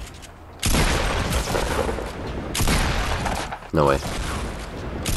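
Rocket launcher blasts in Fortnite: heavy booming explosions that start abruptly and carry dense rumbling noise, with a sharp later hit, while a player talks over them.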